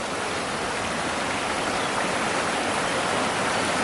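Floodwater spills out across a field and runs off toward the fences and the road, a steady, dense rushing wash of water with no breaks and no voices.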